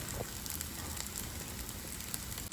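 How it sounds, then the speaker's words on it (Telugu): Homemade paneer shallow frying on low heat for breakfast, a dense, steady crackling sizzle close up that continues evenly without pause and with no talk. "ఇది షాలో ఫ్రై కాబట్టి మీరు సిమ్లోనే పెట్టి వేయించండి, ఎక్కువ వేడొద్దు."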